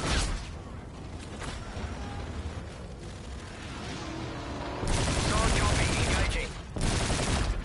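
Strafing fire from an aircraft gun run in a video game, heavy bursts of gunfire and booms building into a loud, dense barrage in the second half, with radio voices talking over the action.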